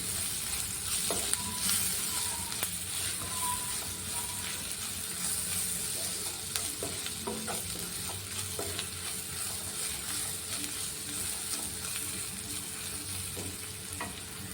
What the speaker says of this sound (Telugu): ఒక అర స్పూన్ గరం మసాలా వేసుకొని వీటన్నిటిని బాగా వేయించుకోవాలి